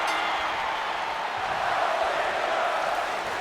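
Arena crowd noise from the WWE 2K19 wrestling video game, a steady, dense roar of many voices at an even level throughout with no distinct cheers or peaks, sounding somewhat distant and washed out.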